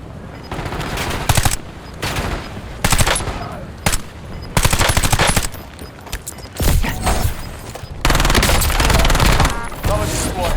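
Rapid automatic gunfire in Call of Duty Warzone on Rebirth Island, loud close bursts of rattling shots and heavier volleys across the whole stretch, with brief game voice callouts.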